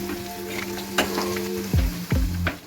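Potatoes sizzle in hot oil with a steady crackling hiss, broken by a few clinks and scraping stirs of a utensil in the pan, close and fairly loud.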